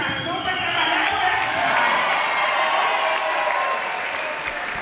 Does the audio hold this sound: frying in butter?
no